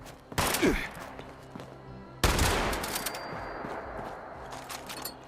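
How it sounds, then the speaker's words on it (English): A pump shotgun in the Fallout 76 game fires two loud, booming shots a couple of seconds apart, each followed by a long echoing decay, with no talk. "I love the pump shotgun"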